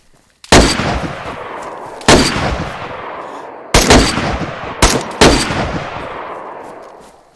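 Five loud, close rifle shots in DayZ, spaced unevenly a second or so apart, each with a sharp crack and a long echoing tail across open ground.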